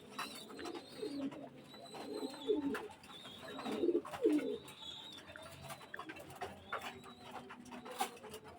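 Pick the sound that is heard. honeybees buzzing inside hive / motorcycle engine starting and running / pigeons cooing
pigeons cooing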